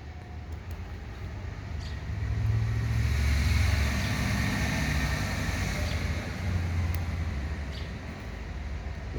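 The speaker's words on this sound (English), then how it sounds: "I'm sitting outside and I got trucks and cars and," Trucks and cars pass a house outside near a woodshop, a steady road rumble with low engine drone that swells and eases as vehicles go by, under a constant hiss.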